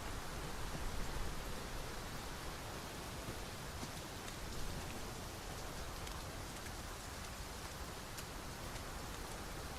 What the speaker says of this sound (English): it's raining and he just held his hand out to feel the rainfall.